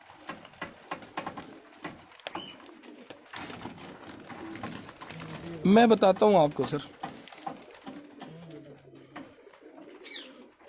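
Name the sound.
pigeons cooing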